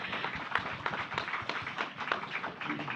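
Steady applause from an audience at a soybean food event, a fairly quiet, even patter of many hands clapping throughout.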